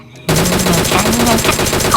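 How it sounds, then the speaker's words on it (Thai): Rapid automatic gunfire in PUBG Mobile bursts in suddenly after a brief quiet moment and rattles on continuously, loud and close, with game-like sound effects. "เสียงปืนรัวๆเลยค่ะ"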